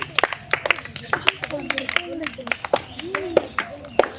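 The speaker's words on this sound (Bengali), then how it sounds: "সকলে জোরে হাততালি" Audience clapping for a prize winner at a children's bat-and-ball tower-toppling challenge game, with sharp hand claps rising in irregular bursts under an announcer's talking.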